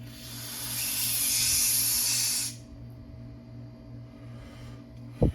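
A loud, steady spray hisses for a couple of seconds as a Yamaha YZ490 carburetor emulsion tube is sprayed out, then cuts off, leaving a faint background hum and a brief knock at the end.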